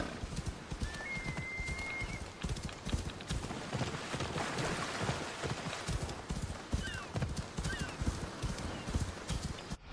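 A horse in the video game Assassin's Creed Odyssey gallops with steady, close clip-clop hoofbeats throughout, letting out a whinny partway through against a busy outdoor game ambience.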